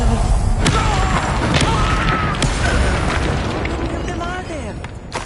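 A Bombarda explosion spell is cast during combat in Hogwarts Legacy on PS4. Loud, dense booms and crashes burst over continuous battle noise, with a voice speaking under the din.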